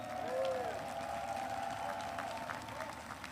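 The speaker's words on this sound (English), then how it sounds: "Give her a round of applause." Audience applause at a presidential speech in Warsaw, a faint distant wash of clapping that swells briefly near the start and holds under a voice.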